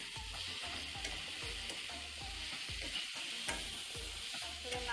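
Ginger paste sizzles and fries steadily in a pan of hot oil while a utensil stirs it in regular scraping strokes, a soft continuous hiss with rhythmic low knocks underneath.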